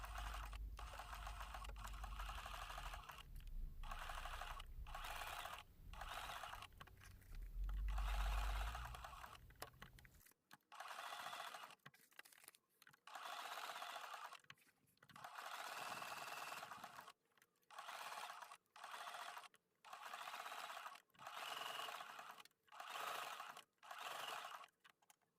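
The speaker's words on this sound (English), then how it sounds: "Now I'll jump over to the little hole in the handle and finish my satin stitch." A sewing machine runs a satin stitch around fusible applique on a quilt block, its steady mechanical hum coming in repeated bursts of a second or two, with stops between them.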